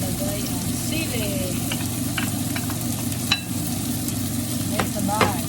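Chili hits a hot frying pan with a steady, dense sizzle, while sharp clicks and scrapes of stirring break through now and then, close and fairly loud throughout.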